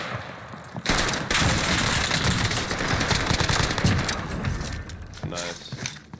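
Dense, continuous automatic gunfire from a video game firefight, loud rattling bursts nearly filling the whole stretch with brief gaps, and a few distant shots toward the end.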